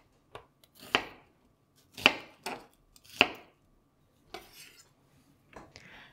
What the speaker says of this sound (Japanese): 続いて玉ねぎはくし切りにしていきます。